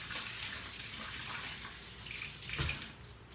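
Tap water runs steadily while white rice is rinsed in a sink before cooking in an Instant Pot, a continuous close hiss with a brief louder splash near the end.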